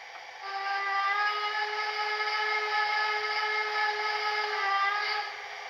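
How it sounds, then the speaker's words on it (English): An HO-scale Rivarossi Blue Ridge model steam locomotive whistle sounds one long, breathy, sustained blast. It swells on sharply, holds steady for several seconds, then tapers away. "Let's go ahead and listen to the whistle."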